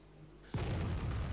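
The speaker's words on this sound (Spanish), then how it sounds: "Ahí tenemos otra explosión." Artillery shell explosion in the video game Arma 3, a sudden boom after a quiet moment, followed by a sustained rumbling tail.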